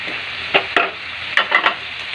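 A spatula stirs vegetables frying in a pan, giving about five sharp scraping strokes at irregular intervals over a soft, steady sizzle, with no talking.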